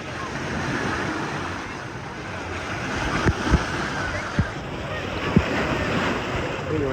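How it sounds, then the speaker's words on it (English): Waves churning in a water park wave pool at Disney's Blizzard Beach, a broad washing surge with a few sharp splashes and thumps partway through, mixed with faint crowd noise in the distance. "And these waves been going on forever."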